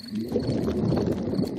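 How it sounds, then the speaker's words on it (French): Cartoon stomach gurgling from a father pig in Peppa Pig, a steady low wet rumble that churns without a break for under two seconds, with no talking. "Les gargouillements de mon estomac sont les plus beaux bruits de la nature."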